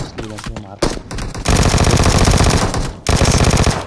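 Loud, rapid bursts of automatic gunfire in PUBG Mobile, in close succession, with brief pauses between volleys, dense and harsh.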